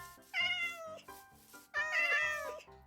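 A Minecraft cat gives two clear, drawn-out meows a second apart, close and loud over a quiet game background.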